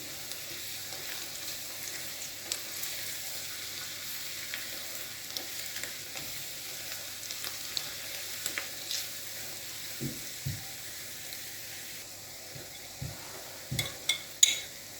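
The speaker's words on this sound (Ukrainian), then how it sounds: "і тушимо 2 хвилини." Quiet, steady sizzling of meat and vegetables stewing with ground red paprika in a pan for a Transcarpathian pearl barley cholent, with a few soft clinks and scrapes of a utensil stirring toward the end.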